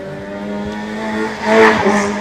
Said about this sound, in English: So that's Dilanka Vijayasurya in his Nissan March.